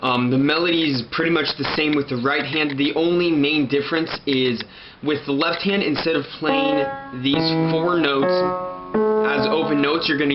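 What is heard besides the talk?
No distinct noise like a dog, phone or traffic.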